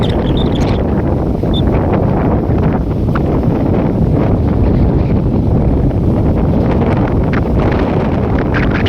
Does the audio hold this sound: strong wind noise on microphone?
yes